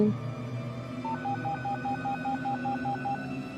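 Touch-tone telephone keypad dialing a police number, a quick regular run of about a dozen clear beeps over a low background hum, no voices.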